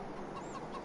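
Chickens clucking in Farming Simulator 22, a brief, soft burst of hen clucks over a steady background hum.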